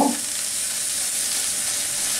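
Spices sizzle and fry steadily in a pan as they are stirred, a close, even hiss filling the short stretch with no talk.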